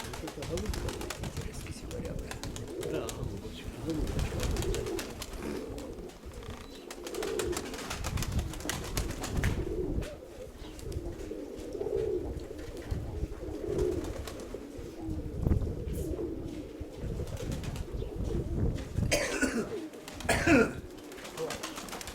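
Pigeons coo repeatedly, including a sigaryaba bird and a young hen among branded breeding pigeons, with soft layered calls close by under intermittent talking.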